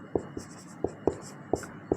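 Chalk or marker strokes on a board during a Class 10 maths lesson on cubic polynomials, six sharp taps and scrapes at irregular intervals over quiet room tone, with no talking.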